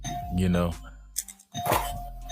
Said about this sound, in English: somebody's doorbell's ringing